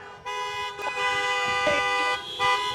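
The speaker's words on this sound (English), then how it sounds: "Please don't honk your horns." Car horns honking at a drive-in menorah lighting event, several long overlapping blasts with brief gaps, loud and sustained, mixed with crowd noise.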